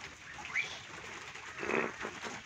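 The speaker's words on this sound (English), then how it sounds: "Now that bird's gonna be flying around all our roof thanks to you lot." A tall black and white bird calls near a house roof on a wet day on an island, two short bursts of calling standing out over steady background noise.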